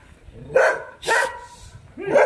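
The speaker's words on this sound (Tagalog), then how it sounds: "Ingay ng aso namin dito." A dog barks in three sharp bursts on Mt. Makiling, Laguna, close by and fairly loud, with short pauses between them.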